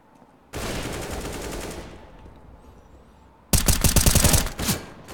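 Automatic gunfire spammed in the shooter game CS:GO during a competitive match: two loud, sustained bursts of rapid rifle fire, the first lasting about a second and a half, the second sharper and closer after a short, quieter gap.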